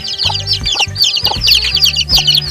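A mother hen clucks repeatedly near her newly hatched chicks, her low rhythmic clucks coming in short bursts while the chicks keep up a constant high peeping throughout.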